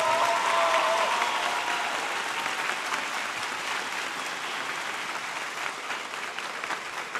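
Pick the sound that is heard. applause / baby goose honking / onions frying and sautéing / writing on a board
applause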